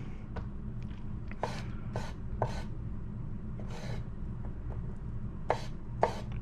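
A knife dices Roma tomatoes on a cutting board, giving a run of crisp, close, irregularly spaced cuts over a low steady background hum.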